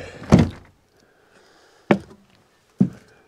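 An old, dirty door is being removed. Three heavy wooden thuds and knocks are separated by pauses, loud and close, with faint rattling between them and no talking.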